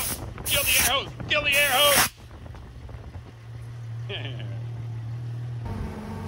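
A compressed-air hose blows in two loud hissing bursts of about a second each while working on a Porsche 997 GT3 exhaust, then cuts off, leaving a low engine idle and a faint voice.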